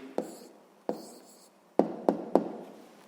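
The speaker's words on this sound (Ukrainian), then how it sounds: "Гаразд, записуємо відповідь." A pen writes an answer on paper in a quiet room: five short scratchy strokes and taps, two spaced apart and then three in quick succession, close and distinct with no talking.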